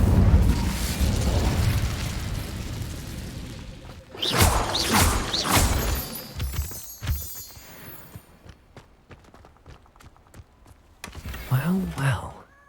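The Incendio fire spell cast in Hogwarts Legacy gives a loud roaring whoosh followed by bursting, crackling blasts that fade into scattered clicks, then another surge near the end.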